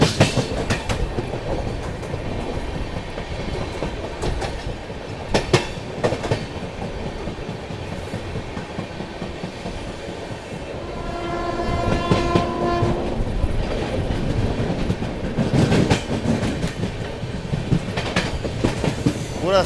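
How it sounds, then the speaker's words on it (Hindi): The Goa Rajdhani Express runs at about 130 km/h past Godhra on a curve, with loud continuous wheel rumble and clatter close by, broken by a long horn blast midway under overcast skies. "अब फाइनली 130 की रफ्तार में अपनी राजधानी भागेगी गोधरा निकलते ही।"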